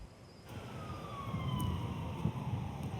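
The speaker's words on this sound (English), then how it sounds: "You hear the sirens as they make their way down Pratt Street here in Baltimore." Police sirens wail faintly along Pratt Street in Baltimore, their pitch sliding as the vehicles move down the street over a low rumble of city traffic.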